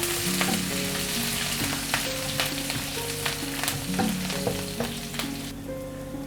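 Chopped green chilies and curry leaves frying in hot oil, a loud close crackling sizzle full of sharp pops and spits, with faint tonal hum in the background.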